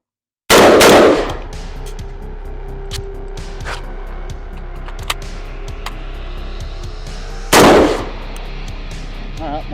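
Loud, sharp gunshots fired during a reloading drill with a chest rig, a hard shot at the start and another near the end, with faint handling clicks and movement in between.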